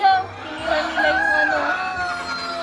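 Laying hens on a layer poultry farm cluck, squawk and crow in a dense, continuous flock chorus at close range, with a faint voice now and then.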